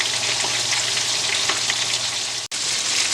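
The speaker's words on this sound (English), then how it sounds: "And we're going to just let this fry." Fish frying in a pan of hot oil, a steady dense sizzle and crackle that runs evenly throughout with one brief break.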